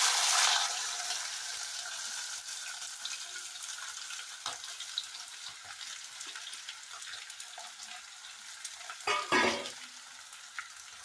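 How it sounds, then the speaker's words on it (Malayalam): Chopped ivy gourd stir-frying in a pan for a thoruan, a steady soft sizzle with a louder burst at the start and scraping stirs near the end, no voices. "കോവയ്ക്ക ഇട്ട് കൊടുക്കാം."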